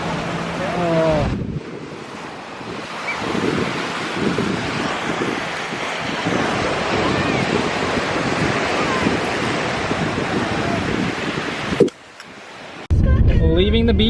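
Strong wind and crashing surf at a beach make a loud, steady roar, with gusts buffeting the microphone; a voice is briefly heard near the start and again at the end.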